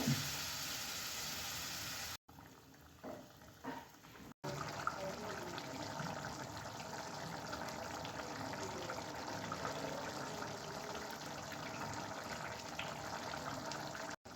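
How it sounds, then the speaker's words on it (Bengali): Water poured into a pan of fig and potato curry, a steady broadband gush and trickle running through most of the clip after a brief pause, close and continuous. "এবার আমি দিয়ে দেবো জল"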